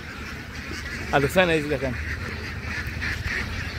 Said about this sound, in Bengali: ওইদিকে আছে বিভিন্ন জাতের হাঁস আছে, বিভিন্ন জাতের।